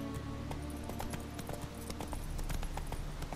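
Roach the horse galloping in The Witcher 3: Wild Hunt, with steady, rapid hoofbeats clattering close and loud over a continuous low rumble, and no talk.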